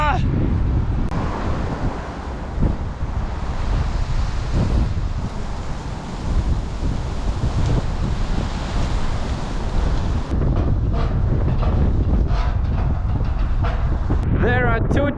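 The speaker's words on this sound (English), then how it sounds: "it's super windy" Strong autumn wind at around 8 degrees Celsius roars and buffets the microphone in a loud, continuous rush that never lets up.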